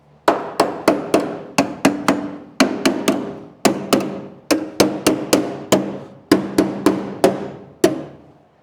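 Rapid hammer blows drive tacks into tin ceiling panels inside a 1958 car, about twenty sharp metallic-ringing strikes in quick bursts with short pauses between, close and loud, with no talking.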